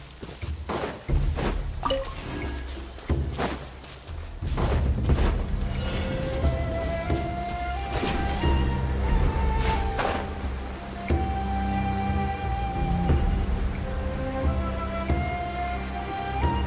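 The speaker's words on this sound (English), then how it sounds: "Taking a stroll in the middle of a downpour certainly rouses the spirit." Steady rain pours down in Genshin Impact, a constant hiss of drops on surfaces under game sounds, with footstep-like taps early on and tonal chimes and effects rising over the downpour.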